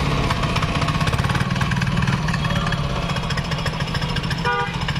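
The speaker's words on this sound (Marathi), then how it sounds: "तर एकदम जाग्यावर फिरतोय मशीन" A 7 HP chain cultivator's small engine runs continuously while the machine turns in place in a field, a close, steady mid-pitched chugging drone with rapid rhythmic firing and a brief metallic clatter near the end.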